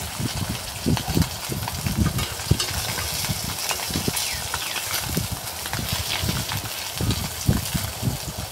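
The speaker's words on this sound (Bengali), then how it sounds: "ভালো করে মাছগুলো ভাজতে হবে।" Fish fry in hot oil in a home kitchen pan, a steady close sizzle with repeated bursts of spattering and scraping as the pieces are turned, continuing throughout without talk.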